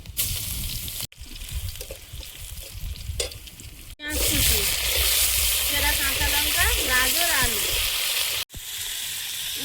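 Crushed garlic, dried red chillies and five-spice seeds hit hot oil in a wok and burst into a loud, steady sizzle after a quieter start, with a person talking over the frying.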